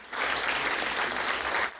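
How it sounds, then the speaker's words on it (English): A group of people claps steadily and densely at an afternoon celebration honoring a 100-year-old man in Midland, Texas, the applause sustained and fairly close throughout. "you could hear hands clapping"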